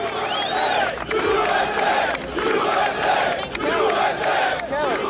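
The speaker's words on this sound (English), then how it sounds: "Chanting begins." A large crowd that includes firefighters chants in loud, rhythmic bursts roughly once a second, voices massed together in response to George W. Bush.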